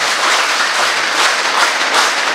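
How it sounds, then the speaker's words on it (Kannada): Students of a village school in Hebri clap with raised hands to welcome a programme, producing steady, dense, loud applause that holds evenly throughout. "ಕುಚೂರ್ ಶಾಲೆಯ ಎಲ್ಲ ವಿದ್ಯಾರ್ಥಿಗಳು ಕೈಗಳನ್ನ ಮೇಲೆ ಕೆತ್ಕೊಂಡು ಚಪ್ಪಾಳೆ ಸುರಿದು ಕಾರ್ಯಕ್ರಮವನ್ನು ಸ್ವಾಗತ ಮಾಡಿ."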